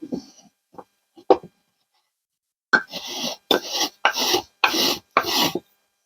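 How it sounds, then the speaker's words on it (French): Hand sanding a segmented, threaded turned wooden box: a few scattered rubs, then five steady rhythmic rasping strokes, close and fairly loud in a quiet room. "Un petit coup de ponçage là-dessus et ça ira."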